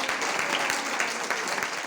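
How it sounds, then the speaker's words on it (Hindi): An audience claps steadily throughout a brief, loud burst of continuous applause. "आपकी ताली में तो कमी नहीं है"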